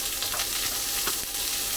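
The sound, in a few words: king prawns frying in a hot wok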